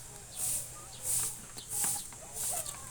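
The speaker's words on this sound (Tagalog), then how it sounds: "Yan o, may pabo." A turkey calls with short clucking bursts near a resort restaurant outdoors, against pulsing high insect buzzes that swell roughly every half second, with faint voices in the background.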